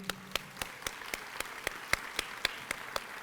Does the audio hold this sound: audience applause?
yes